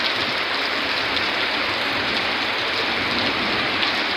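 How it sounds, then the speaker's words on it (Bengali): Heavy downpour in a village market area, a dense, constant hiss of rain pounding on surfaces, loud and close, with no voices. "প্রচণ্ড বৃষ্টি।"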